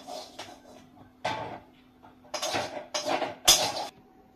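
Food set into two bowls in a home kitchen, heard as a few separate clinks and scrapes of bowls and utensils with quiet gaps between them.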